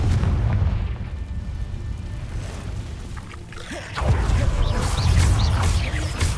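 A Confringo spell blast in a Harry Potter video game, a dense rumbling explosion with heavy low booms and crackling debris that swells again near the end, loud and continuous.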